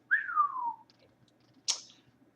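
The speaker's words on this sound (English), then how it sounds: "Sam whistled through his teeth." A sharp whistle through the teeth slides downward from high to low, followed after a pause by a short breathy hiss-like whistle burst, heard close and alone.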